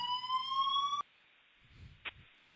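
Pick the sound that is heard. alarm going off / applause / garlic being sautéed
alarm going off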